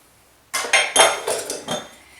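Dried chiles de árbol dropped into a blender jar, a quick series of light, crisp clattering taps against the jar, close and fairly loud, trailing off after a second or so.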